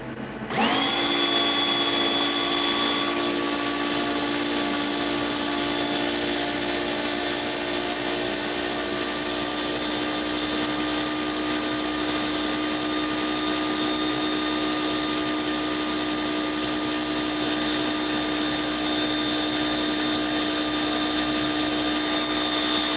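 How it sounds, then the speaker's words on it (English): A Ford Fusion engine runs on a dyno, giving a loud, rock-steady mechanical drone with a strong whine that starts abruptly and holds unchanged throughout. "See if this thing's still running pretty good on the dyno."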